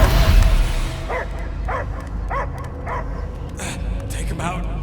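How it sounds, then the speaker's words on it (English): Several dogs bark repeatedly in a scene from the video game Guardians of the Galaxy, a steady run of sharp barks over a loud rumbling backdrop with some yelps and whimpers. "I hear only barking."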